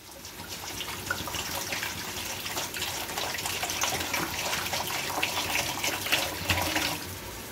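Water pours steadily into a pot of rice for chicken pulao, a continuous close gushing splash that runs for several seconds without a break, with no talk over it.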